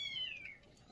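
A rescued stray cat, once soaked by rain, gives a single short, faint meow that slides downward in pitch and fades out, heard alone close by.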